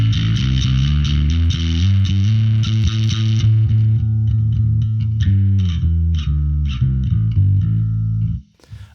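A heavily distorted, fuzzy bass riff plays loud and gritty, with thick sustained low notes that cut off abruptly near the end.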